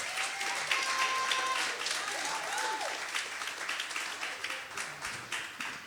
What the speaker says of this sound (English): One more time, please clap for definition.